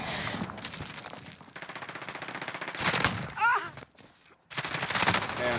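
Rapid automatic gunfire in Call of Duty Modern Warfare crackles in loud repeated bursts, broken by short pauses and game sounds, with a voice talking between volleys.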